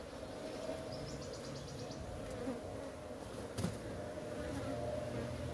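Honeybees hum around a beehive, a steady close buzzing drone that continues without break, with a faint rustle and a brief click midway.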